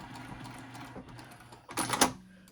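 Sewing machine runs a short back-stitch burst on a zipper pouch seam, loudest near the end after quieter mechanical ticking.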